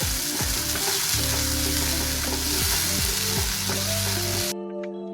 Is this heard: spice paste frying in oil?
yes